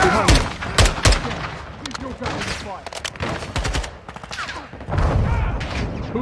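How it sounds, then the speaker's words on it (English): Rapid gunfire bursts in the Call of Duty Modern Warfare 2 campaign, loud sharp cracks and automatic volleys densely packed across the span, with a player's voice talking over the shooting. "Who's shooting?"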